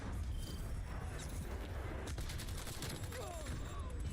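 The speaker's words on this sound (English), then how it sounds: "The gunfire and shots take over the music anyway?" Warzone video game gunfire crackles in steady, overlapping volleys, close and loud, with sharp individual shots standing out against a constant wash of game sound and music.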